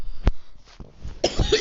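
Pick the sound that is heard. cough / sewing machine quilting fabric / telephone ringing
cough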